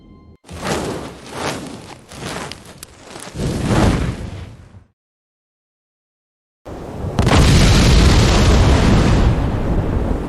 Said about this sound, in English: this thing feels like a bomb